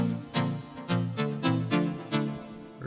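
A bright synth lead plays alone through a bus with reverb, OTT compression and EQ, a steady run of punchy plucked notes in a bouncing rhythm, each with a crisp attack and a smeared, swelling tail.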